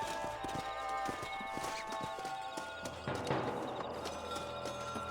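Horse hooves clip-clop in a quick, rhythmic patter in Red Dead Redemption 2 over a faint musical background, with a brief whinny, moderately close.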